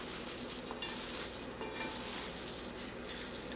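Grated carrot mixed into flour by hand, a soft continuous rustling and crumbling close up, steady and quiet with no voices.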